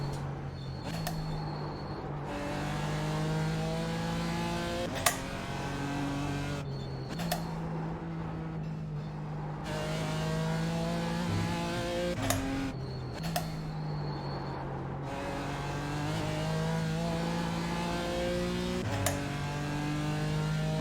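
GT4 race car engine on the Nürburgring in a racing game, revving up through the gears in repeated climbing sweeps with brief drops at each shift, steady and close throughout.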